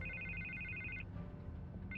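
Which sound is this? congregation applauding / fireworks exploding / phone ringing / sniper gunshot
phone ringing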